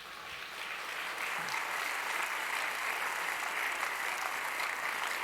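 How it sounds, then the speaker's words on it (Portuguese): A church congregation at a Sunday service applauds loudly, with dense, even clapping that fills the hall and holds steady for several seconds, somewhat distant and with no speech over it. "Aplauda bem forte assim."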